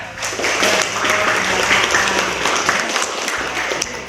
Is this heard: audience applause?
yes